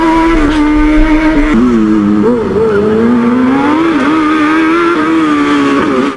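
An old Suzuki Swift fitted with a Kawasaki motorcycle engine drifts, its high-revving engine loud and close, with the pitch climbing, dipping and wavering continuously as the throttle is worked.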